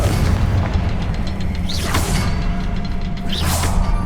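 The Confringo fire spell in Hogwarts Legacy bursts twice, each a whooshing flare into a deep boom, over a constant heavy rumbling game background.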